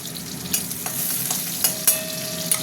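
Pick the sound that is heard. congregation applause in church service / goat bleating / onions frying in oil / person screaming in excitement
onions frying in oil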